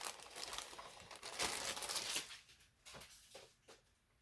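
Plastic bags holding parts of a 1/2500 scale Enterprise-D model kit handled close up, with dense crinkling that gradually thins into scattered rustles and crackles.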